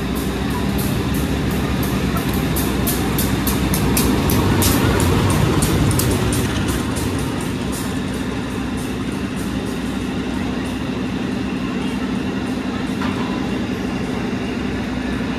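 A Batavia passenger train pulls into a station, a loud, steady rolling rumble with metallic wheel squeal and clatter throughout, heaviest in the first few seconds and easing slightly as it slows.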